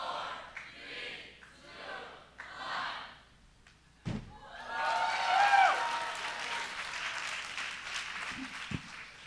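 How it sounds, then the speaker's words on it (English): A beach audience cheers loudly after a heavy thud, a broad sustained roar of many voices that fills the space and slowly tapers off, with scattered yells and a final sharp knock. "Cheer if you want to see a backflip."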